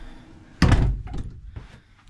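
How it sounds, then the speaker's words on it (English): A front door of a flat swings shut with a single solid thunk, loud and close, followed by a fading rattle and a faint softer knock. "I'm just going to shut the front door."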